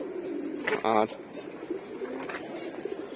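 Foster pigeons in a breeding loft coo softly and continuously nearby, with a brief louder call in the middle and someone speaking a word over them.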